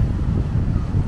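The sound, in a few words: strong wind at the beach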